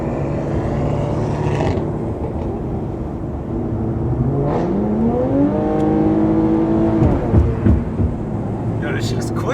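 Infiniti Q50 fitted with a Borla exhaust and downpipe accelerating, the engine note climbing steadily in pitch through the gears, loud and close, with a shift and brief engine bursts near the end.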